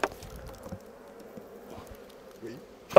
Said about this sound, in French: Normalement, c'est quand même plein d'abeilles.